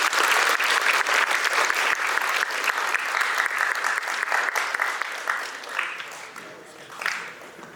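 A high school audience applauds volunteers at an assembly, loud continuous clapping that gradually thins and fades out toward the end, leaving a few scattered claps.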